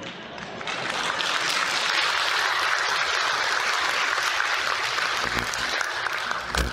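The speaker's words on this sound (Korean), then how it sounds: "그러니까 대중이 지금처럼 막 박수를 쳐요." A crowd at a Won Buddhist gathering breaks into sustained applause that swells quickly and stays dense and loud throughout.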